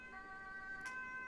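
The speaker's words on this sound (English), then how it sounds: "That's the ambulance." A distant ambulance siren wails faintly under a low background hum, brief and steady in tone.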